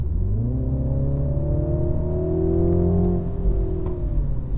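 A 2022 MINI John Cooper Works petrol engine revs close by, its note climbing and holding for a few seconds before easing off, with a couple of crackles near the end and no talking.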